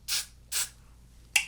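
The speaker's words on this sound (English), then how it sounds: "So I'm gonna spray these little sides." Spray bottle misting the sides of a lace front wig, three short close bursts, the last one quicker and sharper.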